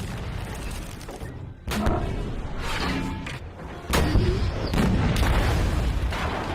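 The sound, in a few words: tank cannon fire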